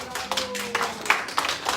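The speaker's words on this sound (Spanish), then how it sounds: "Les damos un aplauso para animarlos." Church congregation clapping to encourage children heading off to class, scattered uneven claps at moderate distance mixed with some voices and murmuring.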